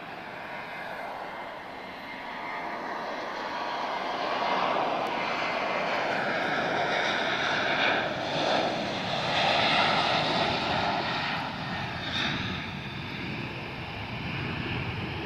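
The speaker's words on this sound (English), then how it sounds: "So, Transavia 737 off to Eindhoven." A Transavia Boeing 737 departs Lisbon Airport bound for Eindhoven, its jet engines producing a steady, broad roar that swells gently and holds at a distance with no talking.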